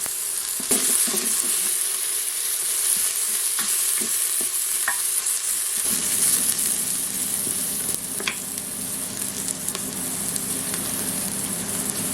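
Vegetables for a goulash begin cooking in a pan, a steady close sizzle with scattered stirring clicks, the frying hiss turning fuller and louder partway through, with no one talking.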